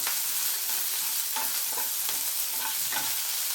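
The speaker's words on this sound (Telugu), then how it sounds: "ఇప్పుడేమో మనము తరిగి పెట్టుకున్న పచ్చిమిరపకాయలు, ఉల్లిపాయలు ఇందులో వేసేసుకోవాలి." Chopped green chillies and onions fry with dals in a pan for a cauliflower mixed-vegetable curry, an even, hissing sizzle broken by several soft stirring scrapes, close and with no speech.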